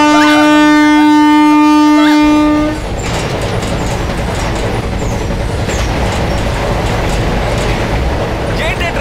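A passenger train rolls steadily along the tracks, its loud horn sounding for the first few seconds before giving way to a continuous rumble and rattle of carriages, with a few faint voices underneath.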